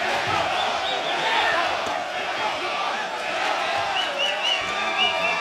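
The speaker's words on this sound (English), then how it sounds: "Mexico, Mexico is what the crowd is yelling here at the StubHub Center" A large boxing crowd at the StubHub Center roars and chants in a dense, continuous wash of voices, with rhythmic shouted bursts rising over the steady arena din throughout.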